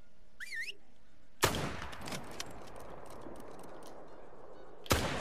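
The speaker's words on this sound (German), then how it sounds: "Der Schuss war schlecht." A sharp, loud rifle shot in a hunting video game cracks and rolls away into a long echo, followed by a second shot near the end; a bird chirps just before.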